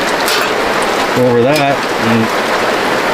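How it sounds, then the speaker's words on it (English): Heavy rain pours steadily at a campsite, hissing loudly and filling a bucket, with someone speaking briefly over the constant downpour. "The rain's really coming down, filling that bucket."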